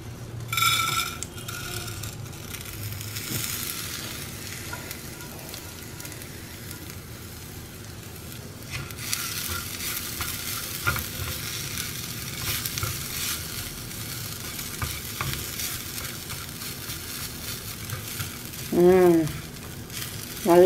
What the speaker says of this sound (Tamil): அதுக்குள்ளே இந்த மசாலா வறுத்துக்கலாம்